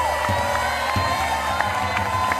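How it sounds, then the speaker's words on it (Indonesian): Crowd at a comedy boxing show on a TV variety stage cheering and whooping, with scattered claps and children shouting, steady and moderately loud with brief bursts throughout. "boleh tepuk tangannya."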